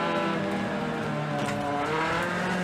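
BTCC touring car engine roaring at high revs as it loses the rear on a wet part of the track, a loud, steady, strained drone with harmonics shifting as the throttle is held, heard from on board.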